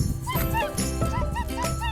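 Small dogs yip and whimper close by in rapid, high-pitched bursts, with some faint voices mixed in.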